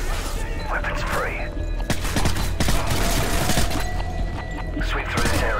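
Bursts of gunfire from a night raid in Call of Duty: Modern Warfare 3, sharp cracks and thuds scattered over a dense, steady bed of game music and ambience.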